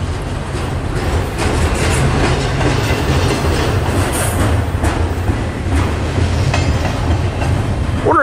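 A train rumbles steadily past nearby, wheels clattering over the rails with a constant low roar and occasional faint squeals.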